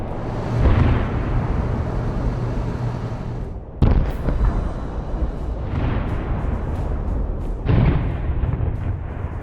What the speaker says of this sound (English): Russian vehicles are under constant heavy fire.